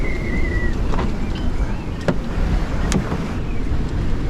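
A sailboat fitted with a Gori folding propeller moves under sail at about six knots with its engine shifted into reverse, a steady low mechanical drone mixed with water and wind rush, broken by a few brief clicks.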